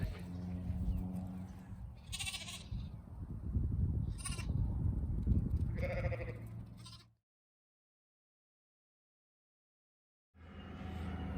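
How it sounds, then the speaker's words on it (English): On a farm, goats bleat repeatedly in short wavering calls over a busy low rumble, then fall silent for a few seconds before the noise returns. "This is Earl. He's a goat."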